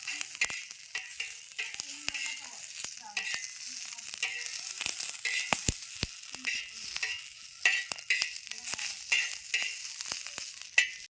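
Chillies frying in a little oil on a hot pan, a steady close crackling sizzle with frequent sharp pops and spatters throughout, no talking.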